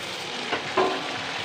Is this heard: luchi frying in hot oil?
yes